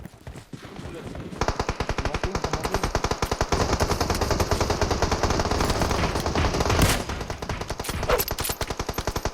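Rapid automatic gunfire in the video game PUBG Mobile, a long sustained burst of loud, evenly spaced shots following a brief quieter start, with faint game sounds around it.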